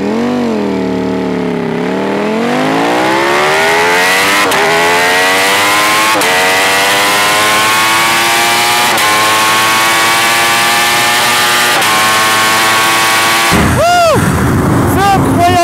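A Ducati Panigale V4 motorcycle accelerating hard through the gears on the German Autobahn, its V4 engine screaming loudly with rising pitch sweeps, brief dips at each upshift, and heavy wind roar.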